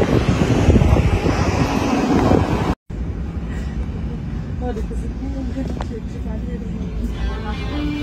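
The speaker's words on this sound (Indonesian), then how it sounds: "pesawat ya, kita naik ke Tambolaka." A Wings Air airplane's engines roar loudly and steadily while passengers board for a flight to Tambolaka, with wind buffeting the microphone, a brief cut, then a lower steady hum with faint voices.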